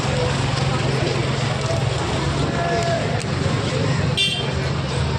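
Congested traffic jam on College Street in Kolkata, a dense steady roar of engines and road noise with a short horn toot near the end, people talking over it.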